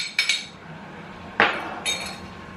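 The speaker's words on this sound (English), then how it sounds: "I'm just going to mix that through the batter really quickly" A utensil works red velvet cake batter in a bowl, giving three sharp clinks against the bowl, two close together near the start and one more a second later, over faint background noise.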